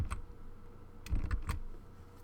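A few separate keystrokes on a computer keyboard as a value is entered, quiet close clicks in two small clusters with gaps between, over a faint steady room hum.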